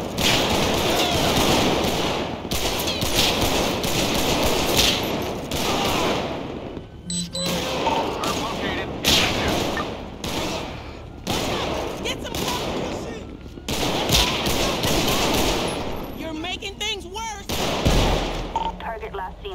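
A GTA 5 police shootout erupts in sustained, loud gunfire, with rapid volleys and bursts from several weapons continuing almost without pause, broken by short gaps and mixed with shouted voices.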